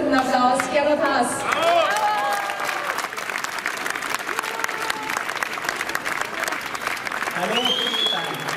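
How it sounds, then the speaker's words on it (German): Loud, dense applause from a crowd at an outdoor freedom festival in Graz greets a comedian taking the stage, mixed with cheers and whistles and ongoing crowd chatter throughout. "Begrüßt mit einem tosenden Applaus"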